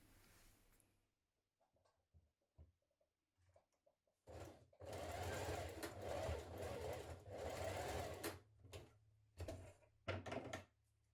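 Sewing machine stitching down a seam on a tunic-style top, with bursts of rapid mechanical stitching that start and stop, a long steady run in the middle and short pauses between, close and clear with no talking.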